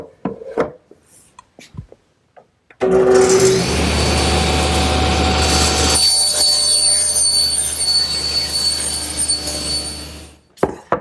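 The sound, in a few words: table saw panel cutter squaring up a panel blank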